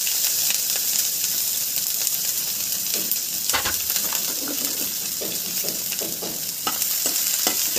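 Onion drops into hot oil for an okra bhaji and sets off a loud, steady, crackling sizzle, with brief clinks of stirring throughout.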